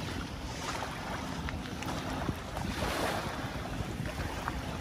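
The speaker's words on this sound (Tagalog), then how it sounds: "malakas-lakas na naman po ang alon." Strong waves breaking at Manila Bay by Dolomite Beach, a steady roaring wash of surf mixed with gusty wind buffeting the microphone, continuous and loud with no voices.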